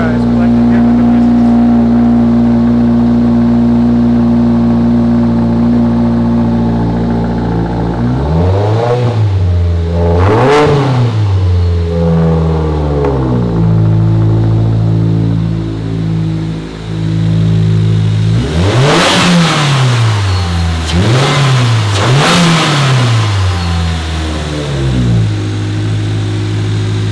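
A 2022 Subaru WRX fitted with a Perrin charge pipe idles steadily up close, then is revved several times in quick pairs of sharp blips that fall back to idle.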